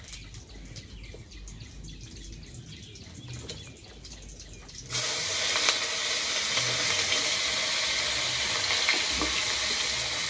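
Kalmi greens with garlic dropped into hot oil in a wok, a sudden loud sizzle bursting in halfway through and continuing as a steady bright hiss, after a quiet outdoor stretch with faint birds.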